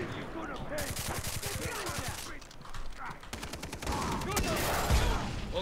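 Rapid bursts of gunfire from a Far Cry 3 co-op firefight, repeated shots crackling loud and close throughout, with talk layered over the shooting.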